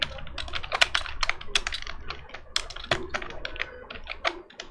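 Computer keyboard typing while entering Python code, a rapid, steady run of crisp close keystrokes with no pauses, heard alone.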